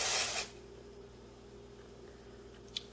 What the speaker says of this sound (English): So what I'm going to do is shake it up really good, and I'm just going to spray.